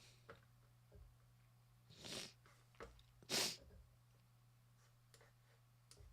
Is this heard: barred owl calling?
no